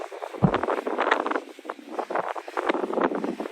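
Strong wind buffets a beach at St. Augustine, Florida, roaring and gusting loudly into the microphone with rough, uneven rushes and no clear voices.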